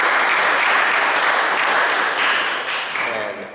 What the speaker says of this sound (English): please, round of applause for her birthday